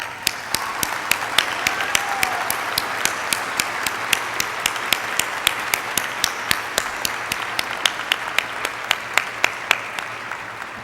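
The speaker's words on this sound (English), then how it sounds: "you deserve a serious round of applause" Audience applause at a dental school graduation ceremony, sustained clapping from a large crowd filling the hall, with distinct sharp claps repeating steadily over the continuous wash of hands.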